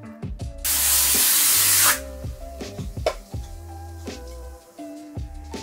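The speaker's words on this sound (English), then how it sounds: "That's why I got this atmosphere spray, you probably know it." An atmosphere haze spray can fires one sustained hissing burst lasting about a second behind a bottle on a product-commercial set, set against quiet background music with soft knocks.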